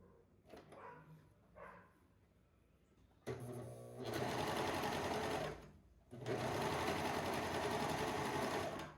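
A sewing machine sews a narrow hem channel on an old blouse, with faint handling sounds first, then two long loud runs of stitching separated by a short pause.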